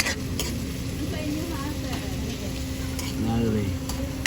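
Sautéing ingredients in a pan for tuslob buwa, a steady close sizzle of frying with light ticks and clinks from a stirring utensil, with a voice speaking faintly in the background.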